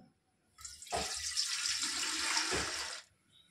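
About 1.5 litres of water is poured into a cooking pot for khichuri, a steady close splashing pour lasting around two seconds in an otherwise quiet kitchen.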